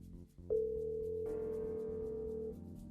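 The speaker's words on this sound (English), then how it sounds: "Scroll down to select the one that you want to return and touch the dial key." A steady, clean dial tone from a Fanvil V Series office desk phone holds for about two seconds after a short key click, faint and alone with no talk.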